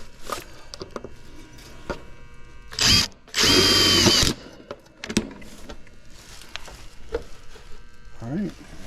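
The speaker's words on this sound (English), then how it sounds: "There's nothing I'm gonna damage by drilling through right there." An electric drill whirs in two short bursts while drilling through metal on an air-conditioner condenser, the second longer and louder, between quiet handling noises and a little talk.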